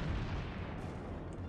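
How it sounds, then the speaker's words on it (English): Naval gunfire from the battleship New York in World of Warships rolls out as a deep, rumbling boom that fades across the whole moment, loud and without voices. "Let's see what happens when you've got proper gunfire coming your way"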